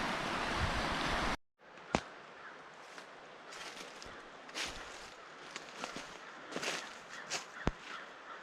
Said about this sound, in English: all I can hear is water flowing